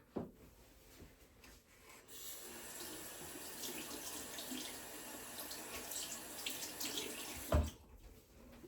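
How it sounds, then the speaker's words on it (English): Hands rinse under a running bathroom tap, a steady splashing water stream with rubbing, ending in a short knock, close and soft. "I'm going to rinse off my hands because it feels kind of funny."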